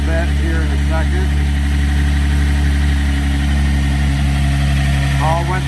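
Car engine idling steadily right after its first start following an engine clean-out with diesel flush and new timing chain, a loud constant drone with a somewhat loud muffler, while someone talks briefly over it.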